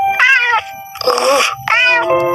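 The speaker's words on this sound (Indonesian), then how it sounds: "Dasar kucing gembul." A cat meows three times in loud, drawn-out, wailing calls with short pauses between them, close by and with no talking over it.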